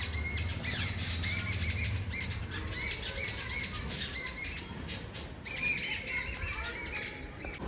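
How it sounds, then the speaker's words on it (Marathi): Sparrows chirp and squawk in a busy, overlapping chatter, fairly close, with no voices. "सगळ्यात चिवचिव करत चालल्या गेल्या"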